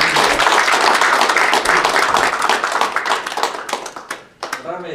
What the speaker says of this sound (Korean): 저 여자분들 우리 박수 한번 또 쳐줍시다